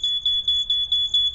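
A bike GPS tracker's theft alert sounds through a phone app as a rapid, evenly repeating electronic beep, about six short pulses in under two seconds, clear and alone.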